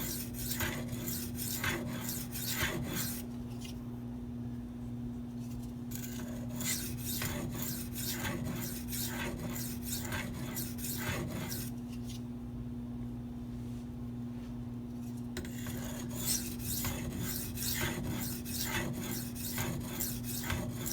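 A Maxamet steel knife is drawn across Venev diamond sharpening stones in repeated rasping strokes, close and dry, each scrape separated by short pauses, with a steady low hum underneath.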